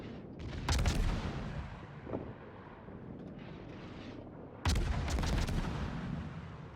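Naval artillery from warships in the game World of Warships booms in two heavy blasts, each followed by a long rumbling decay, with a fainter shot in between and no talking.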